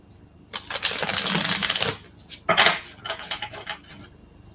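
Rapid papery riffling and clattering in two bursts, close and fairly loud, as a deck of tarot cards is shuffled, with a pause between.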